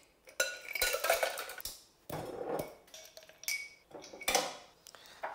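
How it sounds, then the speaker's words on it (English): Ice cubes drop and clatter into a cocktail glass for a Genepy herbal liqueur drink, several sharp clinking bursts spaced irregularly, close and fairly clear with no talk. "Let me get some ice."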